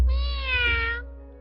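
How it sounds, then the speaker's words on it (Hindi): A cartoon cat in a Hindi-dubbed Doraemon episode gives one drawn-out, clear meow, close and loud, with no other sound around it. "बिल्ली यहाँ पर?"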